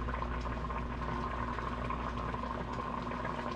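Sweet potato syrup bubbling in a pot over turned-down heat, a quiet, steady simmer of small popping bubbles with a low continuous rumble underneath.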